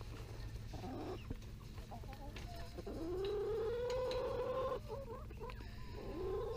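Backyard chickens cluck and call close by, with a drawn-out rising squawk in the middle and softer clucks around it over steady outdoor background noise.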